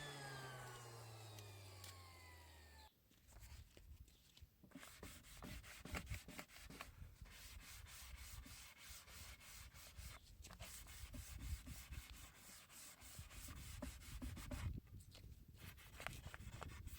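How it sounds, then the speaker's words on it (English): Fine 180 grit sandpaper scuffs a wooden bedside drawer with quiet, continuous back-and-forth rubbing strokes, faint and close, in a steady rhythm that runs on with brief pauses. "Then 180 grit sandpaper, that's what I use to scuff sand the whole piece."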